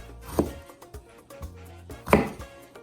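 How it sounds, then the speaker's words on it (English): Two sharp knife chops cut a tomatillo on a cutting board, with faint softer taps and handling noises between them, close up and quiet otherwise. "we're gonna cut it in half again"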